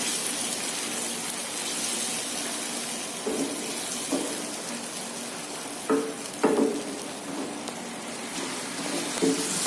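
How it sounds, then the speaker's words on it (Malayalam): Masala of ground tomato sautéing in hot oil in a pan for a chicken dish, giving a steady close sizzle with a few soft stirring scrapes and clatters scattered through. "ഇത് വഴഞ്ഞെടുക്കാം നന്നായി"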